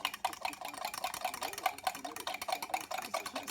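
A spoon stirring Caesar salad dressing with lemon juice in a bowl, producing a continuous run of quick, light clicking scrapes, close and soft, with no talking.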